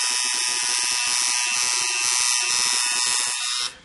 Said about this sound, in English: With a 4-needle shader, again, it will allow you to get into the tight areas and still get that airbrush effect on the tattoo